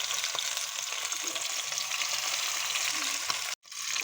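Masala-coated pieces frying in a pan, a steady loud sizzle with faint stirring scrapes, close up and uninterrupted until a brief drop near the end.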